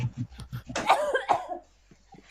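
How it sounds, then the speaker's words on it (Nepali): A person coughs from a dust allergy in a close, loud burst of several harsh coughs that tails off into quiet. "कस्तो खोकी लाग्यो यार धुलोले झन् एलर्जी भयो नि"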